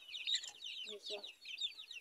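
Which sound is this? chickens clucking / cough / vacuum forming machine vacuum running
chickens clucking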